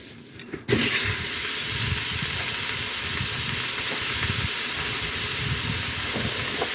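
Hamburger meat fries in hot oil with a loud, steady hiss and crackle that kicks in abruptly after a brief quieter moment and continues without a break, close by.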